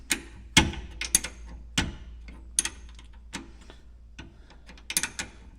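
A wrench turns a bolt on a Polaris Trail Rider 570 during clutch and brake work, giving sharp, irregular metallic clicks and ratcheting ticks with pauses between, close by and without talk.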